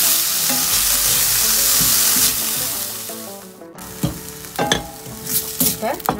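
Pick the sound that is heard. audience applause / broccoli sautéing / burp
broccoli sautéing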